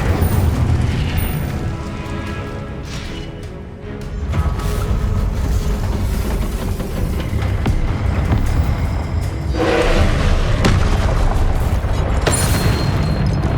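A fire-casting Incendio spell in the video game Hogwarts Legacy, heard as a rushing, roaring whoosh with booming low-end bursts and crackling surges that swell around four and ten seconds, set against continuous game sound and no speech.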